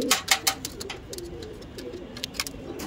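Pigeons of a flying breed kept as pets, giving soft cooing calls under several sharp bursts of wing flapping or handling near the microphone.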